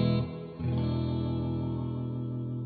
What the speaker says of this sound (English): With a nice spring reverb